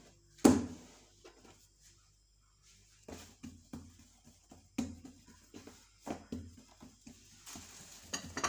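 Pizza dough rolled out with a rolling pin on a kitchen surface, with a sharp knock at the start, then scattered soft thumps and rolling rubs, close and fairly quiet.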